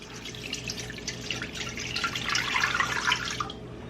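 Cold water poured into an Instant Pot holding corned beef on a trivet, a steady splashing trickle that runs continuously for a few seconds and swells slightly near the end, fairly close and with no talking.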